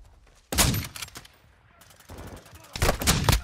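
Call of Duty: Modern Warfare gunfire comes in two loud, rapid bursts of automatic fire, split by a quieter gap with faint mechanical clatter.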